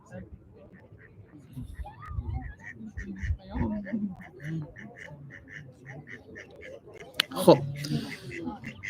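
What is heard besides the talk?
duck quacking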